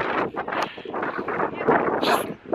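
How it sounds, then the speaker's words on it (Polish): Strong gusting wind buffets the microphone outdoors, a continuous loud rumble rising and falling throughout, with a brief higher rushing burst near the end. "Totalny wiatr."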